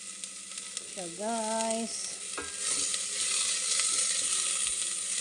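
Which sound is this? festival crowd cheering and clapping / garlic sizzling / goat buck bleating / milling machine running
garlic sizzling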